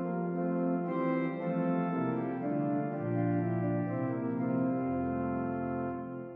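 Principal stops of a Rieger pipe organ hold full, round chords that shift slowly from one to the next, sustained and steady in a resonant space, with no voices.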